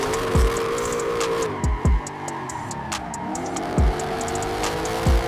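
An American hypercar's engine and exhaust roar in repeated swelling passes, each rising and falling in pitch as the car sweeps by, with faint ticking and tire noise between.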